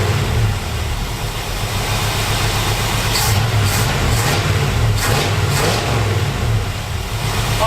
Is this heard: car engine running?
yes